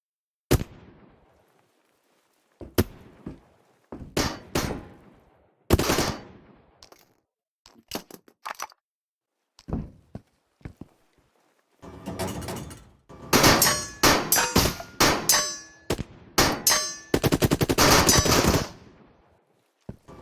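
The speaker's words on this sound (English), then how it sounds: "So I didn't mean to shoot that many times. The trigger got stuck." Gunfire in a VR video game from a gun with a stuck trigger: scattered single shots at first, then dense rapid bursts of loud automatic fire packed together near the end.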